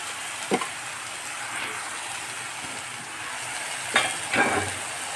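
Hilsa or baroli fish frying in a pan with salt and a little turmeric, a steady broadband sizzle throughout, broken by a few short scraping stirs of a utensil against the pan.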